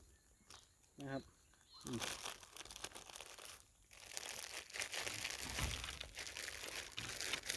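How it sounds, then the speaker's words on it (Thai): A plastic bag is crumpled and torn in loud, close, crackling bursts that run almost continuously, with a voice speaking briefly near the start. "ขยำขยำแล้วก็ฉีกถุงนะ"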